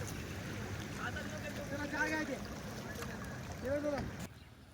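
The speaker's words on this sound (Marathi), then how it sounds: "वाहनधारक पाण्यातून मार्ग काढत आहेत" Water sloshes and splashes steadily as vehicles push through flood water on a town road, with faint voices and engine whines rising and falling in the background.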